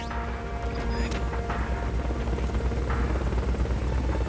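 Helicopter in the Metal Gear Solid Peace Walker video game, a steady close rotor drone with engine whine, sounding continuously and loud, with a few faint game effects mixed in.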